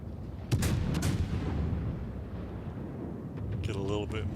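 A warship in a naval combat video game fires its main guns, a sharp burst of heavy booms followed by a rumbling roll-off, then someone talks over the fading rumble.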